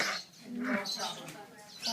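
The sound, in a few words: large pet bird vocalizing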